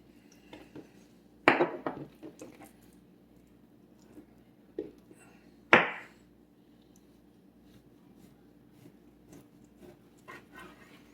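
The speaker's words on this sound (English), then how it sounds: "And very simply, you just keep slicing away." A knife slices center-cut pork chops from the fat side, giving a few sharp thuds and scrapes against the board amid quiet handling, close by, with no talking.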